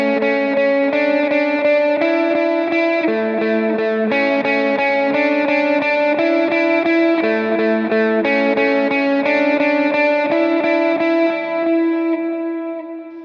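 Overdriven electric guitar lead plays the bridge riff of a song, picked notes repeated in steady groups of three, loud and continuous with effects and chorus-like shimmer, no voices.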